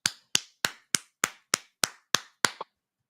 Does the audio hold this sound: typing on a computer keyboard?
no